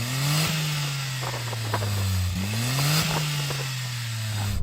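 A Suzuki Cappuccino kei car's small engine revs several times in quick succession at a kei car drag race, rising and falling in pitch. It sounds loud and close, with no talk over it.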